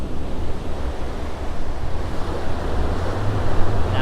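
Sea waves wash steadily onto the shore at General Nakar, a constant surf roar mixed with gusty wind buffeting the microphone, with no voices.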